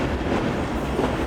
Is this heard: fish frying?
no